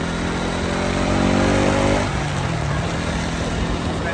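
Motorcycle ridden along a winding forest ghat road, a steady engine drone with rushing wind noise, the engine pitch shifting partway through.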